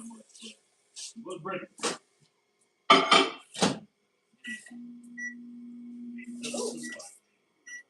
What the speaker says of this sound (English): Let's put this in the microwave for 30 seconds.